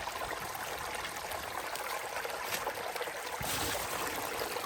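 Creek water flows steadily in a wooded stretch during a bowhunting blood trail in Massachusetts, a continuous close rushing and trickling wash with no talk.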